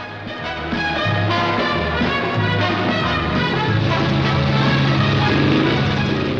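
A propeller airliner comes in to land at Kennedy airport, its engine drone loud and close with a steady low throb that swells after the first second and holds.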